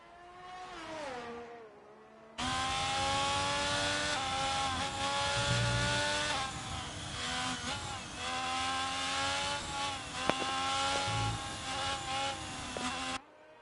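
Onboard a sim Alfa Romeo race car on a flying lap at Circuit of the Americas, the engine howls steadily at high revs with pitch dips for shifts and corners, loud and close.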